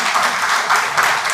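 Audience applause at a gathering honoring new researchers, a steady dense wash of many hands clapping throughout, fairly close and even in loudness with no clear breaks.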